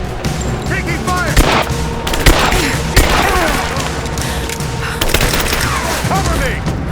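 Gunfire in Rise of the Tomb Raider: repeated loud shots and booming impacts crack out every second or so over a dense battle din, with voices shouting amid the fighting.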